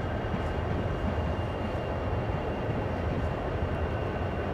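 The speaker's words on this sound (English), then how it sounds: "Quite a long train." A long CSX freight train in the video game Train Sim World, a steady broadband rumble and rolling roar that holds constant throughout without talk.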